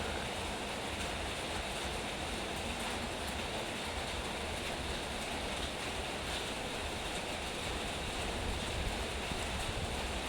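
Dense, steady roaring hiss of heavy rain and wind, a constant broadband wash with no pauses, filling the whole scene at even loudness.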